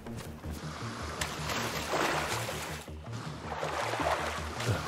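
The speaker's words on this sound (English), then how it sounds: "so I'm just going to swim" A character swims through water in the video game DayZ on the Namalsk map, with continuous splashing strokes over a low steady rumble.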